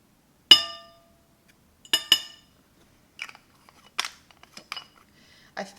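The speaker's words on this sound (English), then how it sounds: "Here I'm hitting the pan. I'm completely destroying this highlighter." Highlighter makeup powder is crushed in its pan with sharp clinks and taps, a hard strike followed by a quick double hit, then smaller scattered scraping knocks, close and fairly quiet between.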